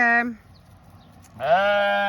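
A sheep bleats twice on a small off-grid farm, a short wavering call, a pause, then a longer, louder bleat close to the microphone.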